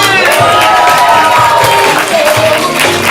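A live comedy-improv audience cheers and applauds for both competing teams, a loud, dense, continuous wash of clapping and shouting voices filling the room throughout.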